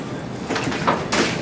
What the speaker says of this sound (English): Alright, open up the door.